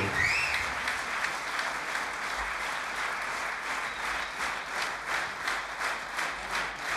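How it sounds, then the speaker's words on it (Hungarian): Sustained applause from a concert audience greeting a singer and a big band after a song, steady dense clapping throughout with no talk. "neked tapsolnak"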